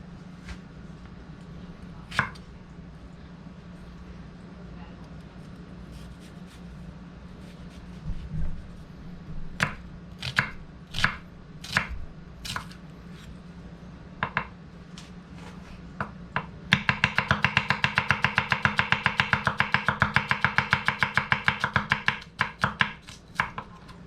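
A nakiri knife forged from pipeline steel chops a shallot on a board, at first with scattered single sharp knocks, then a fast, steady run of close, crisp chops to the end, over a low background hum.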